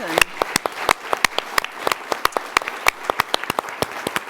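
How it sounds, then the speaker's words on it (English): A lecture audience claps in a sparse round of applause, with individual sharp hand claps standing out in an uneven rhythm. "let's give Pat and Charles one more round of applause"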